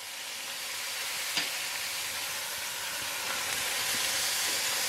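Beef sears in hot oil in a pan with a steady, fairly quiet sizzling hiss that holds evenly, punctuated by a faint clink or two, with no voices.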